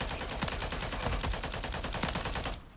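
Rapid automatic gunfire in Call of Duty Modern Warfare III, a dense burst of sharp cracks repeating quickly and loudly for nearly three seconds before cutting off abruptly.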